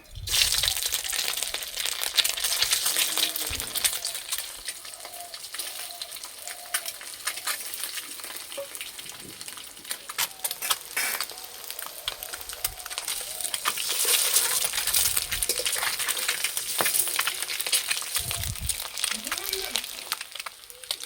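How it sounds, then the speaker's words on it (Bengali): Boiled eggs frying in hot oil in a wok, giving a continuous sizzling crackle with occasional stirring scrapes and low thuds as the eggs are turned. "এবার ডিমগুলো ভেজে নেব।"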